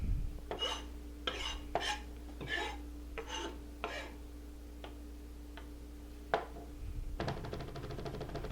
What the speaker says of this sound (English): And it goes over the garlic, just chopping it up beautifully.